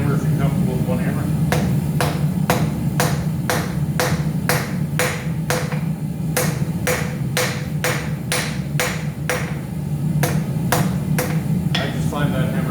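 Regular metallic hammer strikes ring out while forging a metal Christmas decoration, in a steady rhythm of about two blows per second, over a constant low rumble of background noise.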